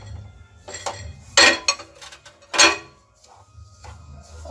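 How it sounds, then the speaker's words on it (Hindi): Semolina for sooji ladoo is stirred with desi ghee in a pan, making clear metallic clinks and scrapes of a spoon against the pan. A few strong knocks are separated by quieter gaps, and no one speaks. "और इसको देसी घी को मिक्स करेंगे अच्छी तरह।"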